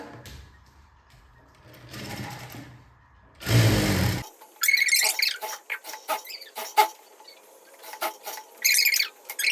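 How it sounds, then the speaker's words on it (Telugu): A sewing machine stitching around the folded neckline of a top, short bursts of rapid mechanical whirring separated by pauses, close and moderately loud, alongside handling noises. "మొత్తం నెక్ రౌండ్గా ఇక్కడ ఇలా నీడిల్ దించేసేసి ఒక స్టిచ్ అయితే వేసుకురావాలి రౌండ్గా"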